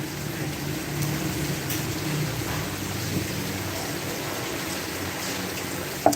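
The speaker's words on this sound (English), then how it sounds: "Oh man, it's raining again." Steady rain falls outdoors during typhoon-like weather as an even, hissing wash of noise that holds at a constant level throughout, with a faint thump at the very end.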